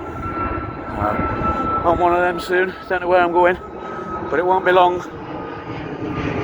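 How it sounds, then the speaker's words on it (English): An aeroplane takes off near the Castle Donington race circuit, its engine a steady drone beneath a voice singing a few lines up close. "there's my obsession with the aeroplanes again. This one's taking off though."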